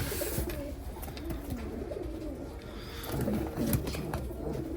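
Young fancy pigeons, Modena and Damascus types among them, coo steadily in low rolling calls from several birds nearby, the murmur continuing throughout with faint background noise.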